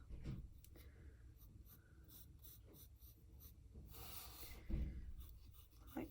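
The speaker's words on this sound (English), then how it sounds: "Might be quite nice to just sketch the basic shape of the cupcake of the case." Pencil sketching a cupcake still life on paper, a soft, continuous scratchy stroking with a brief rustle, very quiet and close, with no talk.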